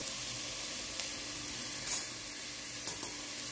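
Carrots and onions sauté in oil in a pan, giving a steady close sizzle with a few soft stirring knocks; no one speaks.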